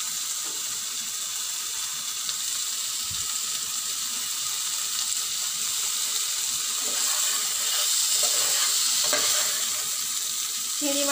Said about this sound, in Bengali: একটু ভাজা এগুলো ভেজে নিই